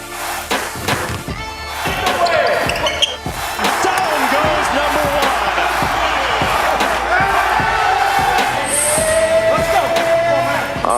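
Volleyball fans cheer loudly in a packed arena at a K-State Volley Cats NCAA tournament home match, a dense sustained crowd roar with whoops and sharp thuds, building after the first couple of seconds and staying steady.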